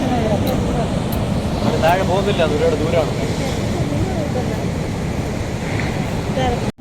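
Sea waves and gusting wind roar continuously at Varkala beach in Kerala, a dense rumble with wind buffeting the microphone while people talk over it.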